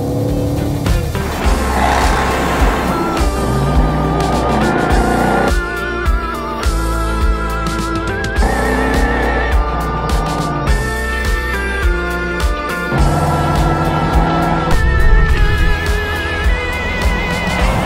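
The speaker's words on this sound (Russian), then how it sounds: "Потрясающая динамика и очень приятный звук двигателя." A BMW X5 accelerating hard, its engine note rising through gears with brief shift pauses, loud and close, with tire squeal and a continuous roar filling the clip.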